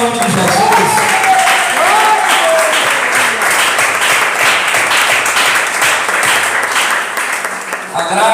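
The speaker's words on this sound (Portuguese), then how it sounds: "aplauda o nome de Jesus" Congregation applauding during a church service, a dense, loud wash of clapping that runs steadily throughout, with a few sung or spoken voices faintly mixed in underneath.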